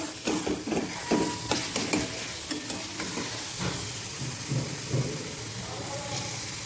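Chicken keema is sautéed in a pan with splashes of water for palak keema, its oil starting to separate. Irregular spatula scrapes and stirs sound up close over a continuous low sizzle.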